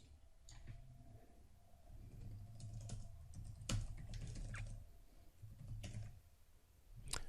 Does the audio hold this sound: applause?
no